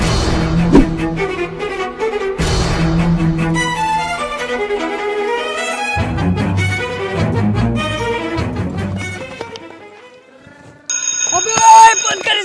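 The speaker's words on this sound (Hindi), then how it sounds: "मैं भूल जाता हूँ ना अपना जूस पीने का टाइम, तो इसलिए अलार्म लगा के रखा था" A phone alarm set as a reminder to drink juice goes off near the end, a bright repeating electronic tone cutting in after a stretch of music and voices.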